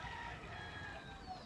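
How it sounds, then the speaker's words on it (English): Chickens cluck and a rooster crows in the distance on a morning in Arequipa, a faint farmyard murmur heard from indoors. "I think they have chickens."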